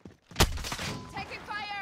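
A single sharp gunshot cracks in Call of Duty Modern Warfare multiplayer, followed by ringing echoes and a voice speaking over the tail.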